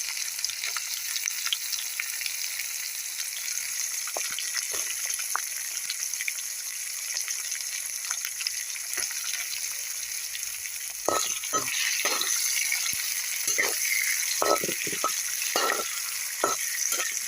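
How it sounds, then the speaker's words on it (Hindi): Chopped onion frying in oil in a pan for a methi, sarson, palak and bathua saag, a steady close sizzle with stirring clatters growing busier in the second half, no voices. "तो अब इसमें हम प्याज डाल देंगे।"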